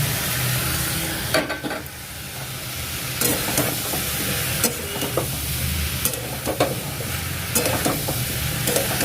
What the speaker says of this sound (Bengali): এই যে মশলা কষে নিয়েছি, এবার এর মধ্যে আলু আর সয়াবিনটা দিয়ে দেবো